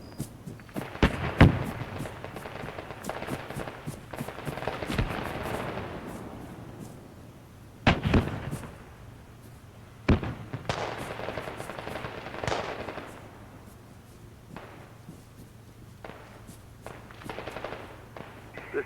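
Artillery fire in the World War II shooter Arma 3 Spearhead 1944, a series of sharp, heavy booms spaced a few seconds apart with rolling tails, mid-distance over a low background rumble.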